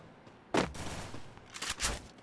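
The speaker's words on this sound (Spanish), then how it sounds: "No vi dónde carajo fueron esos disparos" A few sharp bursts of gunfire crack out in Free Fire, a loud volley followed by scattered shots, with no talking.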